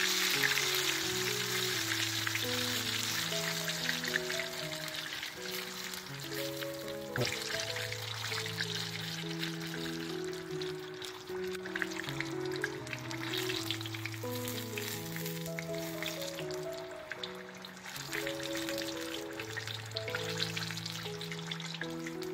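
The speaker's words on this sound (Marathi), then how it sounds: "ते छान गोल्डन ब्राऊन होईपर्यंत आपण फ्राय करू." Popcorn chicken pieces deep frying in hot oil, a dense, continuous crackling sizzle at steady volume throughout, close up, with soft background music and no speech.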